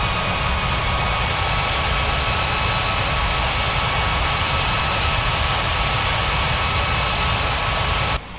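An airliner taxis at a Rocky Mountains regional airport in an air traffic control game, with a steady, loud jet engine roar droning evenly without a break until it cuts off abruptly at the end.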